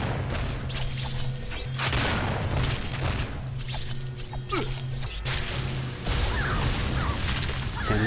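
Heavy bomb blasts and crashing impacts from the BloodRayne 2 action game, booming loudly over a dense, continuous bed of combat noise and mechanical clatter.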